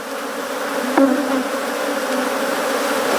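An Africanized honey bee colony hums in a dense, steady buzz, close and loud throughout, with one brief nearer tone near the start.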